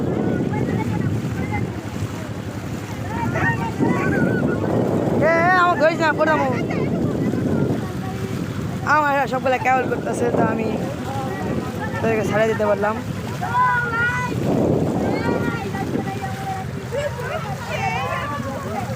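A boat glides across a wetland lake (bil) in Naogaon district, its water wash and steady wind noise running underneath someone talking throughout.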